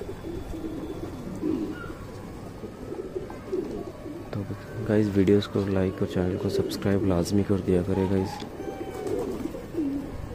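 Soft, repeated coos of wild pigeons in a low rolling rhythm, close by, while someone talks over them.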